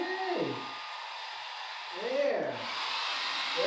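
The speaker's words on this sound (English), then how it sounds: "with getting used to the hairdryer" A hair dryer blows steadily and loudly on a dog, a continuous broadband rush throughout, with a person's voice rising over it in short phrases.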